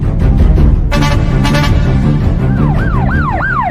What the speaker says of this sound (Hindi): ये तो पुलिस की गाड़ी की आवाज आ रही है